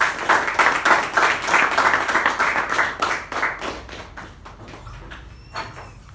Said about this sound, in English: help me welcome Toastmaster Sai Ganesh with a huge round of applause